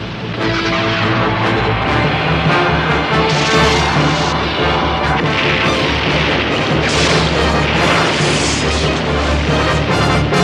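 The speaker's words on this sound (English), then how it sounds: "That oil tanker is our escape ticket! Fire torpedo!" A cartoon torpedo launches and detonates in a loud, continuous wash of booming, crashing explosion noise with rumbling blasts that carry through the whole stretch.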